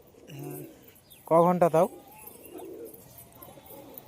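A pigeon for sale gives soft, low cooing, faint and close, while people talk nearby and a voice briefly cuts across it.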